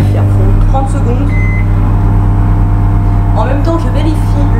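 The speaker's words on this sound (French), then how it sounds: "le micro-ondes est juste en dessous de vous. Donc vous allez entendre le micro-ondes" A microwave oven melting butter hums steadily and loudly up close, a constant low drone running throughout with faint clinks and kitchen sounds and a voice speaking over it.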